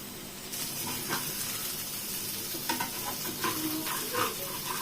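Asafoetida hitting hot oil while tempering for rasam, a steady close sizzle and frying crackle with soft stirring scrapes, continuous and alone.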